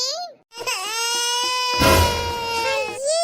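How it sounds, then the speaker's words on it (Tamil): A cartoon baby wails in a long, high, tonal cry with rising and falling pitch, loud and close, breaking off briefly before resuming. "ஸ்னோபல் பாப்பா பயந்து அழுதுட்டு"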